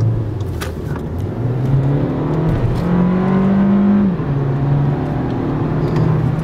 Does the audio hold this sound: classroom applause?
no